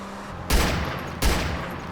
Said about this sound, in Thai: ดีกันยิงกันเกิดขึ้นแล้วครับ